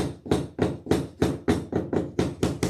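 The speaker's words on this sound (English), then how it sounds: "with a little bit of help from the hammer, we are still making do" Steady hammer taps strike metal about four times a second, sharp and close, with no voices, during stained glass work.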